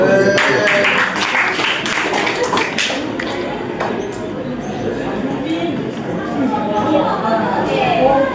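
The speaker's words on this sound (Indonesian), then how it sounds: "Tepuk tangan dulu dong." Students in a high school Islamic studies class clap together in a short burst of scattered claps. The clapping fades and gives way to classroom chatter and voices.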